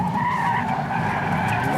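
Subaru BRZ, a light rear-wheel-drive coupe with a limited-slip differential, skidding through a roundabout, a sustained loud tyre squeal over engine noise, close and continuous.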